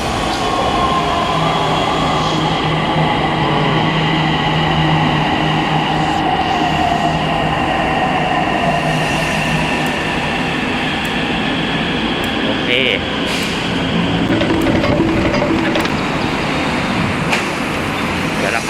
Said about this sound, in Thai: ขบวนรถกำลังเข้าสู่ชานชาลาแล้วครับ